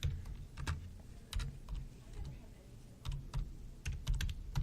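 Quick bursts of keystrokes on a computer keyboard while a file name is entered, irregular clusters of clicks with short pauses, close and fairly quiet over a low room hum.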